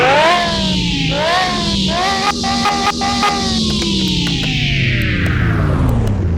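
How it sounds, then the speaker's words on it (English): A Porsche race car engine in Car Mechanic Simulator 2021 revs loud and close, its harmonic whine climbing and dipping through repeated gear changes over six seconds, with no voices over it. "Sounds like a race car."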